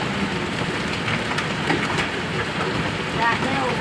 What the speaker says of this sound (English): That's all hail.